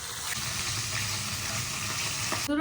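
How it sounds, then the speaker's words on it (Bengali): Fish rubbed with salt and turmeric fries in hot oil in a wok, giving a steady, moderately quiet sizzling hiss that runs without a break, with no voices. "মাছটা ভাজা হয়ে গেছে"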